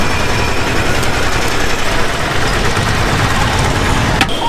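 A tuk-tuk's small engine idles close by in India, a loud, steady low rumble with a faint rattle and no talking.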